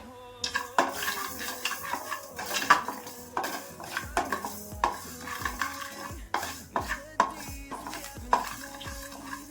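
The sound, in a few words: roasting fenugreek seeds in a pan while stirring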